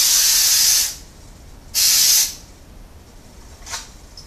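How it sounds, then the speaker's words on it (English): Spray paint hissing from an aerosol can onto a cardboard stencil in three bursts: two long, loud sprays followed by a short, fainter puff. "You're gonna wanna take a can of spray paint"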